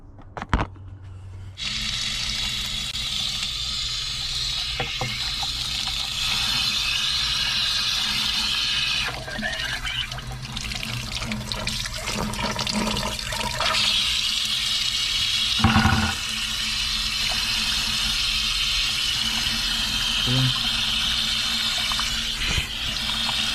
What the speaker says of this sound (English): So all of this is going to fall out once I rinse it with water.